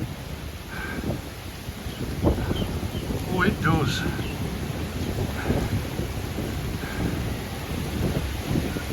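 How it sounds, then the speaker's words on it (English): Strong wind blowing across flat open ground at an airport as a storm approaches, a loud continuous rushing roar with buffeting against the microphone, while a person speaks briefly over it. "when it's windy and a storm's coming,"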